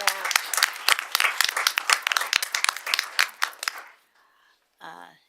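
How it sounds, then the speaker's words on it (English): A school board meeting audience claps and applauds for an Olympian, a dense burst of clapping about four seconds long that fades into quiet, followed by a brief voice. "let's give her a big round of applause"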